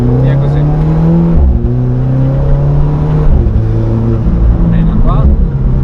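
An Alfa Romeo Giulia Quadrifoglio accelerates hard on a track during a test drive, engine climbing through gears with sharp pitch drops at upshifts, loud from inside the cabin while an instructor talks over it.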